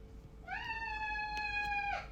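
A cat gives a single clear, drawn-out meow close by, rising and then holding steady, over a low background hum.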